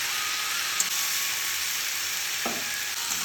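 Loud, steady sizzling from fried potatoes and chopped tomato in hot spice masala, a continuous hiss with a brief stirring scrape partway through.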